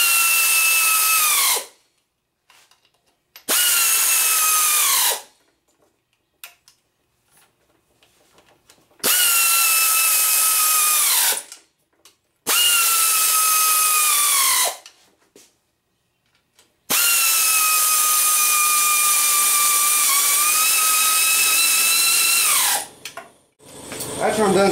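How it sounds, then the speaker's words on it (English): A power driver or drill on a 1976 VW bus transmission, run in several loud, steady bursts of a few seconds each with brief quiet gaps between, the whine falling as each nut snugs down. "I got all the nuts started all the way around. I'm just gonna snug it down."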